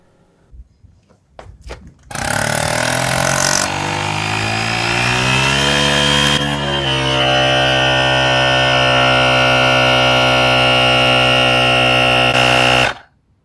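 An ASMAX T10 digital tyre inflator pumping up a bike tyre runs with a loud, steady motor whine and buzz, the pitch rising slowly and holding for about eleven seconds before cutting off, after a few handling clicks.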